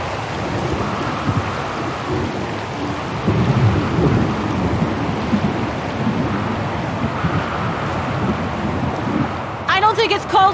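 Thunder rumbles and heavy rain pours steadily in the game Syberia The World Before, a dense, roaring storm with swelling low rolls of thunder, and a brief voice cuts in near the end.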